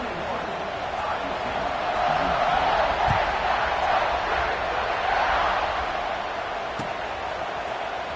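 A home crowd roars steadily at a college football game, a broad, sustained wash of cheering with a swell in the middle and a few sharp knocks, talk faintly mixed in.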